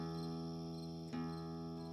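Crickets chirping in a steady, continuous drone, layered under a sustained tonal hum, with one brief click near the middle.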